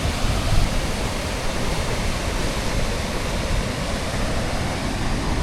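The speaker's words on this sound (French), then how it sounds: "Deuxième cascade, enfin troisième." Waterfall in Yosemite, a steady loud rushing roar of falling water filling the whole stretch without a break.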